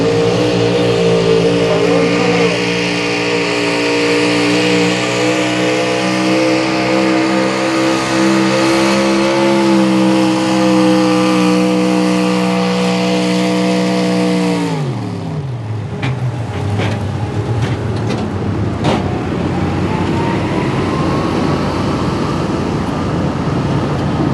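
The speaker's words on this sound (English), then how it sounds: "Tractor runs really good." A pulling tractor roars loudly at a truck and tractor pull in Harrisonburg, Virginia, its engine note holding and slowly rising, then sharply falling as the run ends, with crowd and announcer noise after.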